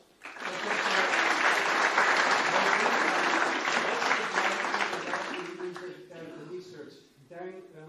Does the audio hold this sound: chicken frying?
no